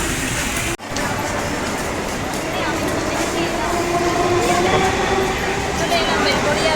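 A train comes into the first platform at Naihati station, a loud continuous rail rumble that builds slightly over time, with a brief dip near the start.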